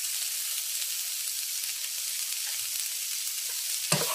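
Fried rice sizzles in a hot pan with a bright, hissing, continuous crackle, close and steady, ending in a sharp clatter of stirring; no one speaks.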